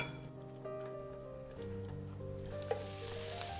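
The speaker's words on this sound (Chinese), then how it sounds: "在锅中倒入3大勺橄榄油，然后先把洋葱丁放入锅中" Diced onions sizzle and crackle in olive oil in a pan over medium heat, a steady soft frying hiss with occasional stirring scrapes, fairly quiet throughout.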